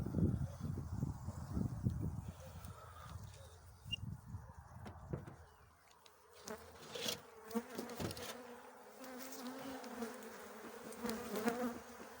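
Bees buzz steadily around the hives, a low droning hum with individual insects flying close past, quieter in the middle.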